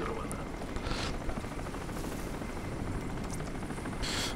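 Helicopter in the video game Crysis: a loud, continuous rotor thump and engine roar fills the scene, with a few brief higher bursts of game sound over it and no clear talking.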